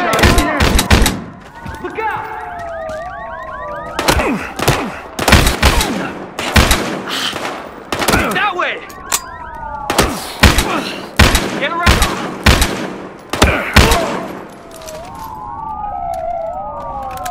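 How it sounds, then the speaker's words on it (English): Repeated bursts of rapid gunfire crack sharply throughout a video game shootout, mixed with wailing police sirens and the noisy, layered sound of a chaotic fight. "Gunshot."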